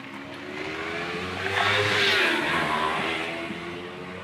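A loud motorcycle roars past, its engine noise swelling to a peak midway and then fading, a steady drone throughout.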